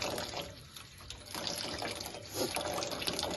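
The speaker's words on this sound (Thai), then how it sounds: "ล้างให้สะอาด" Running tap water splashes steadily into a kitchen sink while food is washed clean, a continuous close gush with small changes in flow and no speech.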